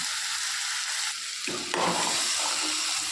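Cauliflower sautéing in a pan for gravy, a steady broad sizzle that swells louder about halfway through as pieces are stirred and turned, close and continuous with no talking.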